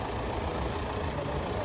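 A car's engine idles steadily during a used-car inspection, a constant low rumble running through the whole short stretch with no talking.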